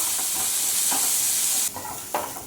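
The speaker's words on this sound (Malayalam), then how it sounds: "സവാള കളറെല്ലാം മാറി ഒരു ലൈറ്റ് ബ്രൗൺ കളർ ആവണം, അതുവരെ വഴറ്റി കൊടുക്കാം" Two chopped onions are sautéed in a pan until light brown for chicken cutlets, a constant bright sizzle with a few soft stirring scrapes and a sudden drop in hiss partway through.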